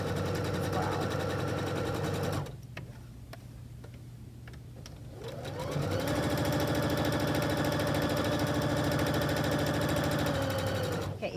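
A sewing machine chain pieces quilt block fabric, running in loud steady whirring stretches that pause briefly before restarting, heard close and with no talk.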